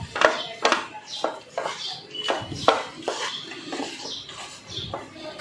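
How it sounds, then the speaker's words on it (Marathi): Almonds are stirred into hot roasting wheat flour in a pan, with a spoon scraping and clinking against the metal in irregular bursts and a light rattle of nuts moving about, close and moderately loud. "थोडे बदाम घालणार आहे व हे 1 मिनिट आता परतून घेणार आहे"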